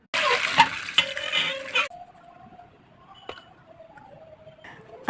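Raw mangoes rinsed under running water for pickle-making: a loud splashing gush for the first two seconds, then quieter trickling and dripping with a few small clinks close by.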